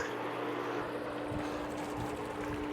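A pool pump runs steadily with a continuous motorized hum and water churning, close and even throughout with no talk.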